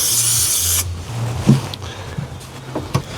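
An aerosol can sprays adhesive in a bursting hiss for under a second, loud and close, then stops, leaving soft handling knocks and rubbing during cab insulation work.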